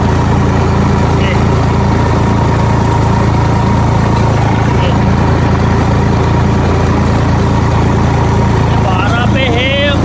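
Farm machine engine running loud and steady at constant RPM, a continuous droning hum throughout, with people talking over it.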